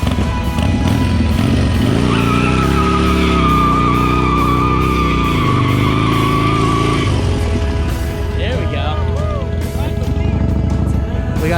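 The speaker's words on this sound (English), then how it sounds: "See if we can figure out how to do these burnouts." A Harley Dyna motorcycle with a hard rear tire doing donut burnouts in a residential neighborhood, its loud steady engine roar rising and falling in pitch while the tire skids, with faint chirps near the end.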